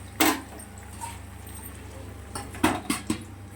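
A lid set over a pan of eggplant frying for khichuri, giving a sharp metallic clink followed by a few lighter clatters later, against a low steady background hum.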